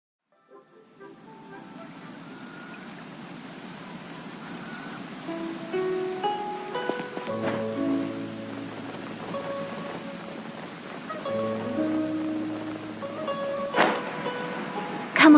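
Steady rain falls in the video game Genshin Impact, a continuous wash of drops running the whole time beneath scattered game tones and a low hum, without talk.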